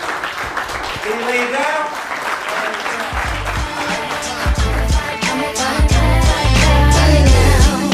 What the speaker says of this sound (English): Give a big round of applause, y'all.